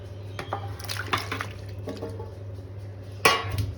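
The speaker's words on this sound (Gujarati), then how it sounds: "તો જો આટલી વેફર લઈ લીધી છે, એને પહેલાં ફર્સ્ટ પાણીમાં આપણે એડ કરી દઈશું" Thin-sliced potato wafers tipped into a vessel of water for washing in a home kitchen, giving light splashes and liquid sloshing with a few clinks of the container over a steady low hum.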